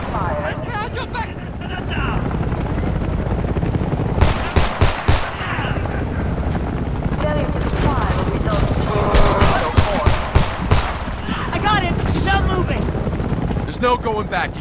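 Gunfire in the Homefront video game: bursts of automatic weapon fire and single shots under loud shouted dialogue, with a constant rumble of battle noise throughout.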